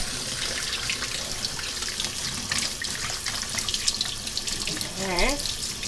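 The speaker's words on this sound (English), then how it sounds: "So, just give it a nice little rinse." Kitchen tap water runs steadily into a sink to rinse broccoli, a continuous close hiss and splash with a brief voice-like tone near the end.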